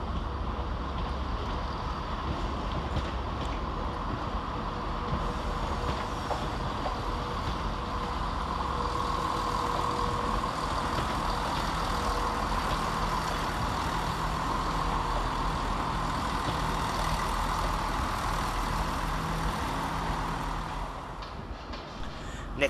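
Locomotive 17470 pulls an empty coaching stock working from Haymarket Depot out of the tunnels into Edinburgh Waverley station, making a continuous low diesel drone that holds steady throughout.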